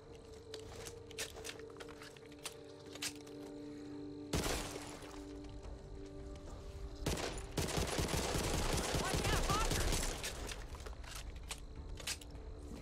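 Automatic gunfire in Back 4 Blood, scattered shots early giving way to loud rapid bursts and a sustained rattling volley, with impacts mixed in.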